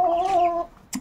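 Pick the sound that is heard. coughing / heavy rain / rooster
rooster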